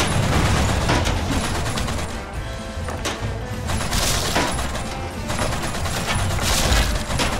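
Rapid bursts of video game gunfire in a shooter, loud dense volleys with crashing impacts rolling continuously, pausing briefly before resuming.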